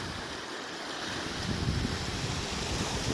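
Ocean waves wash against the shore in a steady, broadband surf roar mixed with wind buffeting the microphone, growing slightly louder midway, with no voices.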